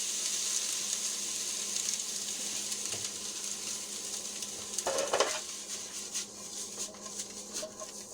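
Steady close sizzling of food browning in a pan for crab sauce with steak and ahi tuna, with occasional utensil scrapes and a brief louder stir partway through.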